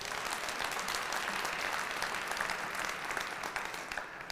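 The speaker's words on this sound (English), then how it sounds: "That deserves a round of applause." Steady audience applause at a live State of the City address, dense broadband clapping filling the whole stretch at an even, sustained level with no pauses.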